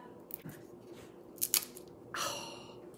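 Cashew-based Nori Cheezy Crisps, a vegan cheese snack made with red bell pepper, being bitten and crunched up close, with a few sharp crisp cracks and then a longer brittle crunch, fairly quiet.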